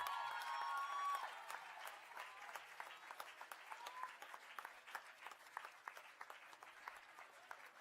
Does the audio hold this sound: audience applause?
yes